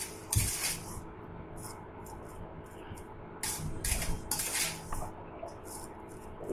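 Lemon nimki is moved into a bowl as dishes and utensils clink and clatter in a few scattered bursts, close by over a low background hiss, with brief gaps between the knocks.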